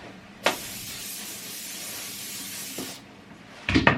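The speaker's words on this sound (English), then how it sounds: "it's a hairspray" An aerosol can of hairspray lets out a steady hiss for about two and a half seconds, close to the mic. Short clicks and rustles come before the spray and after it.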